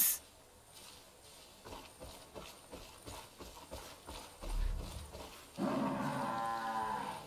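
Cattle moo in the video game Far Cry 5, with a bull and cow low and drawn out near the end, preceded by a rhythmic series of clopping hoof-like thumps.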